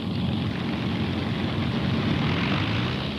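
Avro Lancaster bomber piston engines rumble during taxiing on an airfield perimeter track, a loud, steady droning roar with a throbbing low end, close and without speech.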